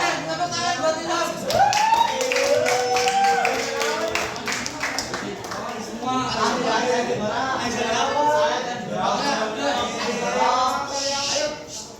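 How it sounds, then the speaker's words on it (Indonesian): A classroom of students claps for Ilham, uneven rapid clapping from many hands that swells and continues, with children's voices and chatter mixed in throughout. "tepuk tangan buat Ilham."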